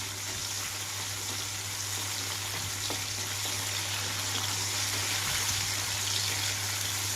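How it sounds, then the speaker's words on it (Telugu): Red chillies fry in a pan for pepper-and-dosa dish, a steady broadband sizzle with a low hum underneath, stirred now and then with soft scrapes, close and continuous with no talk. "ఇక్కడైతే మధ్య మధ్యలో కలుపుతున్నాను రెండో వైపును కూడా చక్కగా వేగిపోవడం కోసం"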